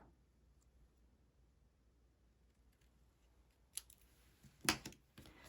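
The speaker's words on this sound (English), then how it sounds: "So I grab that wing is not quite symmetrical. We're gonna have to cut a little bit off." Scissors snip a small paper bee wing cut from vellum to even it out, giving a few faint, sharp clicks close by near the end after a stretch of near silence.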